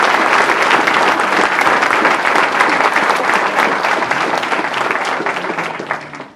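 An audience at a municipal New Year's address in Villeneuve-le-Roi applauds the town's agents, a loud, dense burst of clapping that holds steady and then tapers off toward the end.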